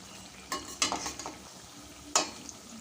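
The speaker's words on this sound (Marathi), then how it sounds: "ब्राऊन कलर होईपर्यंत तुम्ही तळून घ्या सर्व वडे" Poha vadas deep fry in hot oil with a steady bubbling sizzle, and a few sharp scrapes or taps of a utensil in the pan stand out above it.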